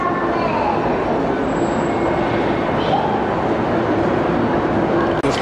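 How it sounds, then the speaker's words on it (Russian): Steady rumbling of a moving train in open country near Athens, wheels rolling continuously with a low roar, a faint squeal rising briefly in the middle. "Поезд уже идет по открытой местности."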